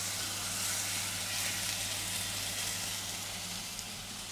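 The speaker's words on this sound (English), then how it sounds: "Now let's sear this chuck." A chuck beef roast searing in a hot pan, giving a loud, steady sizzle that holds without a break.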